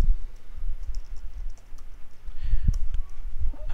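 A computer keyboard is typed on while a name is entered into an online account sign-up form, producing quick irregular clicks and taps, close and fairly quiet, with no talking.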